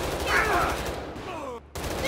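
Rapid video-game gunfire pouring from a house, loud and continuous with a brief drop-out near the end, under a busy game mix.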